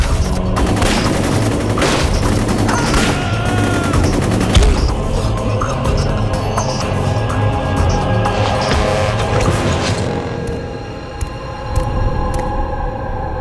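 Loud bursts of gunfire and machine-gun fire crackle through a PlayStation 2 X2 Wolverine's Revenge cutscene, rapid overlapping shots mixed with crashes and booms, then thinning out toward the end.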